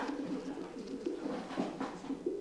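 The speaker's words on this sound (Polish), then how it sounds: "Niebieski gołąbek" A blue pigeon coos in repeated low, throaty phrases, close and clear against faint background noise, with no one speaking.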